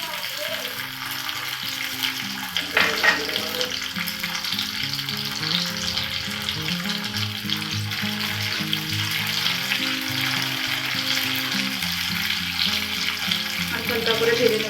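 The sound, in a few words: frying soaked almonds and cashews in a pan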